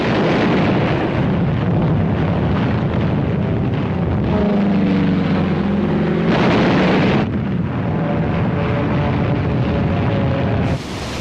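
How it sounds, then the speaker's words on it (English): Archive footage of aerial bombardment at Iwo Jima: dense, loud continuous rumbling of explosions and aircraft engine drone, with a droning tone and two sharper bursts standing out against the roar. "Wave after wave of American aircraft paved the way with a massive aerial bombardment."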